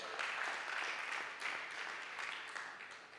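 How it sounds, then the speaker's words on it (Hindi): A congregation at a Sunday miracle church service claps together in a steady, moderately loud wash of applause that tapers slightly toward the end. "ताली नहीं बजाओगे?"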